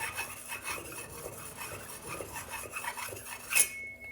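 A cleaver blade scrapes back and forth across a cheap silicon carbide sharpening stone in a rapid, rough rasping rhythm, close and fairly loud, ending with a sharp metallic tick.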